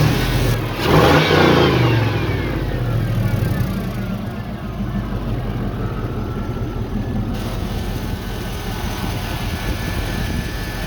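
A 1976 Chevrolet K10 pickup with a swapped 4.8 liter LS V8 revs hard up close, the engine climbing and then easing into a steady loud run.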